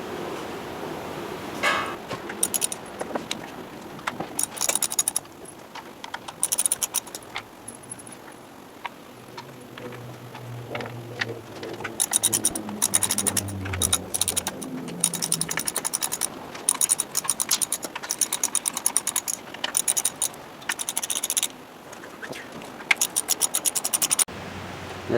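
A driver turns T30 Torx fasteners to mount a Zipwake interceptor on a boat, making close, intermittent clicking and ratcheting bursts separated by brief pauses of handling noise.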